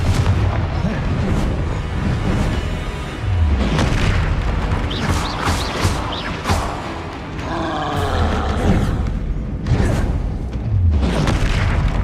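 Repeated booming spell explosions from Confringo casts in Hogwarts Legacy, loud, dense bursts rolling one after another across a busy fight with other spell effects mixed in.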